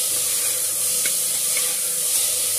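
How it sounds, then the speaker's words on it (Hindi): Potatoes stirred with rock salt in a hot pan for a fasting-day sama rice pulao, a steady loud hissing sizzle with faint scraping of the spoon running throughout, no talk. "इसमें हम डालेंगे आलू, इनको अच्छी तरह से मिला लेंगे"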